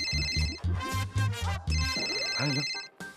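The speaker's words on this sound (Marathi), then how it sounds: "शंतनूच्या बॉसचा फोन आहे." A phone rings loudly and close with an incoming call, a bright repeating ringtone melody playing alone for about three seconds.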